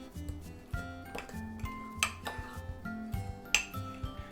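A spoon clinks and scrapes against a ceramic mug while chocolate chips are stirred into mug cake batter, giving close, irregular taps and rattles with a few sharper rings and no talking.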